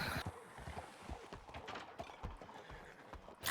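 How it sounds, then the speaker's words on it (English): Horse hooves in a video game, a steady run of clattering clip-clops with a muffled banging quality, heard at moderate distance under a low background rumble. "I hear horses banging around down there."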